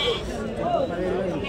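Sheep bleat at a weekly sheep market over a busy, continuous crowd murmur, the animal calls close and wavering, mixed with steady background chatter.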